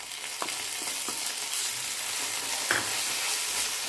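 Ginger garlic paste added to browned onions frying in a pan for mushroom masala, a soft steady sizzle with a few light clinks and scrapes of a stirring spoon, no voices.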